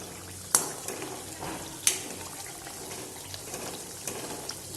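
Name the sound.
ghee being stirred and cooked in a pan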